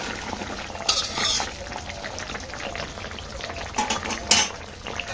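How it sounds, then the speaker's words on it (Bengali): Potato and eggplant curry cooking in a pan in a village kitchen, a steady soft sizzle and bubbling with a few sharper utensil scrapes and clinks against the pan. "এখানে আজকে তরকারি রান্না করতেছি আলু বেগুন দিয়ে"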